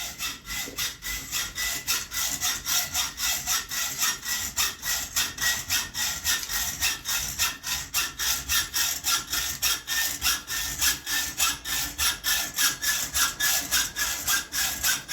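Steady rhythmic back-and-forth rasping of a file on metal guitar truss rods, about two strokes per second, loud and close, continuing without pause.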